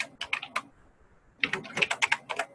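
Two quick bursts of computer keyboard typing, crisp and close, separated by a brief silent pause, with no talking.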